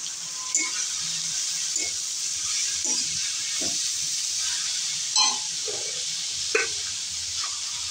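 Salt-rubbed cabbage goes into a hot pan of tomatoes fried over high flame, giving a continuous hiss and sizzle with a few brief scraping and stirring clicks scattered through it.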